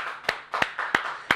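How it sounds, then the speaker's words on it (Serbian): Studio audience clapping in a Serbian TV show, four sharp, evenly spaced claps over a low background murmur, close and distinct. "hoćete da mi pomognete jednim aplauzom za najboljeg producenta"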